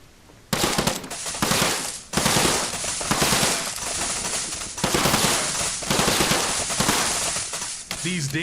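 Rapid gunfire in the survival video game Outbreak Island, with bursts of close, loud automatic shots repeating across most of the clip and brief pauses between volleys.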